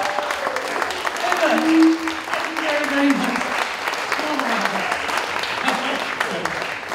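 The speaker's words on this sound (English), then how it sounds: "Let's give you a round of applause again." Audience at the Banbury Folk Festival clapping for a live band, a dense sustained round of applause mixed with cheers and a few whoops, fairly close and loud, holding steady across the full span.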